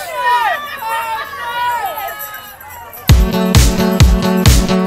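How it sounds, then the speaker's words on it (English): Spectators along the 2018 Baltimore Half Marathon course make a lively babble of voices and calls near the runners, and in the final seconds a loud burst of rhythmic clapping or banging joins in. "Thank you for cheering."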